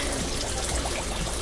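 Water pouring steadily into a guppy aquarium tank on a fish farm, a dense continuous splashing rush, close and loud with no talking.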